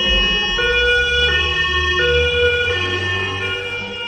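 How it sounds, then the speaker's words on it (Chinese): An ambulance siren wails loudly and close by, its rising and falling tones cycling over the rumble of road traffic, with no voices. "救护车！ 救护车！"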